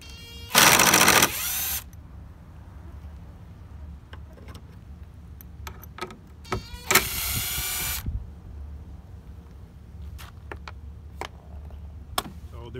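Headlight mounting bolts on a 2008-2017 Audi A5 are removed with a power tool, giving two loud whirring bursts of one to two seconds each, separated by quiet clicks and small knocks of handling.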